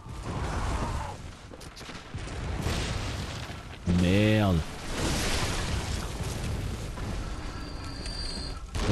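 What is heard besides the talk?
cannon explosion in the video game Bloodborne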